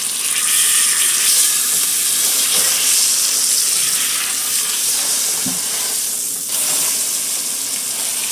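Pork sears in butter in a hot pan with a loud, continuous sizzling hiss that stays fairly even for the whole stretch.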